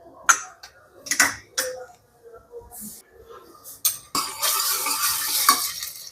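Mustard seeds, urad dal, chana dal and cumin go into hot oil for a sambar tempering: a few sharp spoon clatters and scrapes come first, then a dense crackling sizzle takes over and continues to the end.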